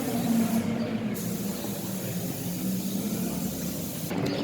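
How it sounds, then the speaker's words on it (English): A BMW E36 drives past on a wet race track, a steady broad engine and tire-spray roar held at constant loudness throughout, with hissing water spray across the upper range. "E36 driving past"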